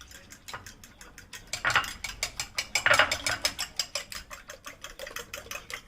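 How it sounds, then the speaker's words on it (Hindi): Two eggs beaten with a utensil in a bowl, a rapid run of sharp clicking taps against the sides, close and brisk, growing louder in the middle, with no talk. "ये 2 अंडे फेंट लेने अच्छे से।"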